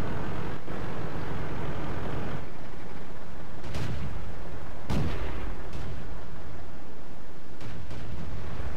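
A tank cannon in World of Tanks fires several heavy booming shots, separated by a few seconds, over a constant low rumble of engine and battlefield noise.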